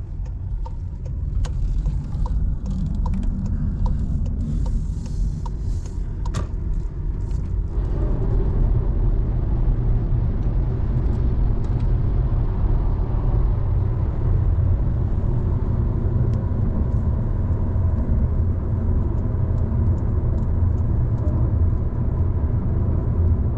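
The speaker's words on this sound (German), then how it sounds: "Wir sind direkt losgefahren und es schüttet aus Eimern." A motorhome pulls away in torrential rain, its engine a steady low rumble beneath the dense, constant hiss of pouring rain and spray. Faint ticking and scattered sharp knocks come through early on, and the level stays loud and even.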